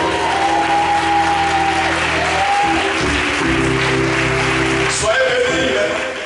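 Loud, continuous applause from a standing church congregation at an Easter service fills the space with dense clapping from many hands, steady throughout, with sustained tonal sounds beneath.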